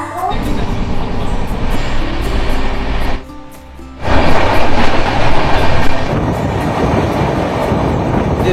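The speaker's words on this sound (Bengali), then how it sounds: "পুরী শিয়ালদা দুরন্ত এক্সপ্রেস পৌঁছে দিল আজকে জার্নির শেষ স্টেশন।" The Puri–Sealdah Duronto Express rolls loudly into its final station, with a steady rumble and wheel clatter, a short quieter gap, then the heavy rolling noise resumes close by.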